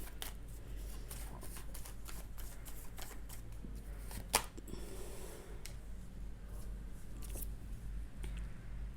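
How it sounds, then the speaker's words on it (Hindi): Tarot cards shuffled and drawn from a deck, soft close riffles and slides with a few sharper snaps, faint and quiet with no talk. "मैं कुछ और कार्ड्स लूँगी क्लैरिफाई करने के लिए"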